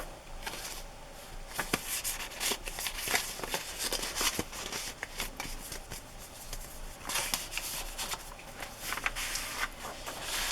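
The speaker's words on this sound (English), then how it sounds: "here's a card that goes in this envelope" A paper card is handled and slipped into an envelope, producing soft, faint rustling and sliding scrapes in scattered bursts, close up and quiet, with no voices.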